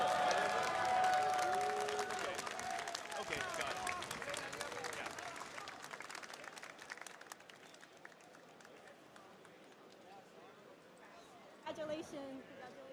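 Loud crowd applause and cheering at a fighting-game tournament showcase stage during Evo 2026, strongest at first and slowly thinning, with a voice speaking over it.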